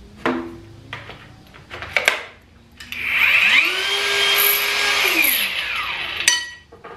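POPOMAN grinder and polisher runs up with a rising whine, holds a steady high-pitched motor hum for about three seconds, then winds down, following a few clicks and handling knocks.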